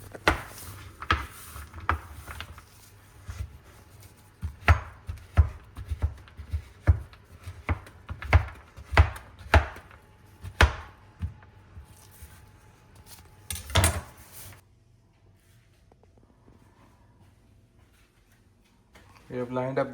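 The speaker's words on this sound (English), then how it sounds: "Chopping the chocolate" A knife chops chocolate on a cutting board in a run of crisp, close, uneven taps and thuds, with faint voices underneath. The chopping stops near the end.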